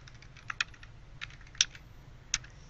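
Keys tapped on a computer keyboard while entering a console command in the XCOM 2 game, a sparse run of quiet, uneven clicks with a few sharper strokes standing out over a faint low hum.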